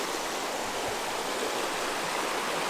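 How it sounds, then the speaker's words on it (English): A small creek flows steadily behind a cabin in North Carolina, giving a continuous broadband rush of moving water, close and even in level, with no voices. "The water just flows."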